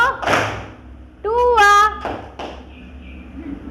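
Hand claps in a classroom clapping exercise, a few sharp claps spread out amid children's voices and a teacher counting, with a burst of sung or called-out voices in the middle.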